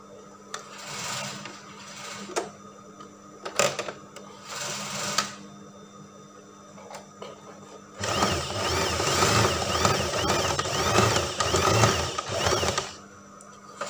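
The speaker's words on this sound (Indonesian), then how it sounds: "Jadi ini kita jahit di bagian ujung engkol-engkol bagian atas." A sewing machine stitches brocade kebaya fabric, running in short start-stop bursts at first and then in one long, steady whirring run of rapid needle strokes, close and without talk.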